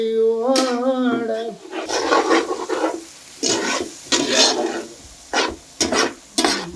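Onions for Kerala-style squid thoran are stirred in a pan, rhythmic scraping and rasping strokes with a soft sizzle, in short bursts separated by pauses, after a snatch of singing at the start.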